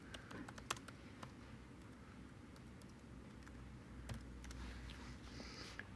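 Steady typing on a Mac computer keyboard, with quick irregular key clicks and a few sharper taps running throughout over a low background hum.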